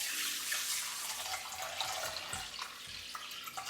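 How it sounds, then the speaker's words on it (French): Cold water pours from a tap over bulgur in a salad bowl, a continuous close splashing rush of water that lasts the whole moment. "On met le boulgour dans un plat, enfin dans un saladier, on le recouvre d'eau froide."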